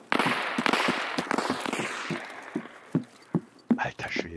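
Gunfire in the shooter game Escape From Tarkov: a rapid burst of sharp shots followed by scattered single cracks, loud and close, with someone talking over them in German.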